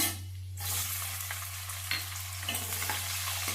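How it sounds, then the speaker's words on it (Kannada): Chana dal crackling and sizzling in hot oil in a pan with mustard seeds and cumin, a steady close frying hiss with a few sharper pops and no voices. "ಕಡಲೆಬೇಳೆ ಇದು ಸ್ವಲ್ಪ ಫ್ರೈ ಆಗಲಿ ಅದು ಸ್ವಲ್ಪ ಫ್ರೈ ಆದಮೇಲೆ ಈರುಳ್ಳಿ ಹಾಕ್ಕೊಳ್ತೀನಿ"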